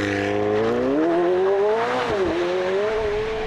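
A 2018 McLaren 720S, a rear-drive car, launches hard from a standstill with launch control, its engine note climbing steadily through the gears at close range, loud and continuous with no talking.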